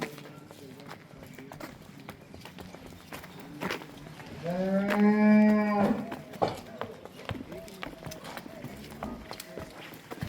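A calf lets out one long, loud moo midway through, over a background of scattered clopping and farmyard noise.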